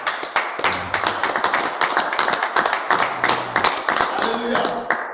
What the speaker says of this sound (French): On acclame pour Jésus.